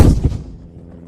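Ceremonial artillery gun salute at a royal proclamation, a single heavy boom opening loud and close, then rolling and fading into a long low rumble and echo.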